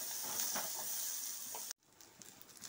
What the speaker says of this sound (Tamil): பூண்டும் சின்ன வெங்காயம் போட்டு நல்லெண்ணெய் ஊத்தி வதக்கலாங்க நல்லா வதக்கி எடுத்துக்கலாங்க